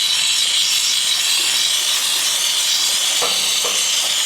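A steam cleaner sprays a motorbike's voltage rectifier, a steady broad hiss running close and loud throughout, with a few faint knocks near the end.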